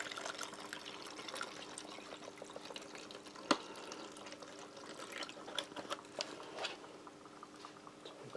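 Pre-measured water poured into an MRE spaghetti pouch, a quiet continuous trickling and splashing of liquid filling the bag, close by and faint.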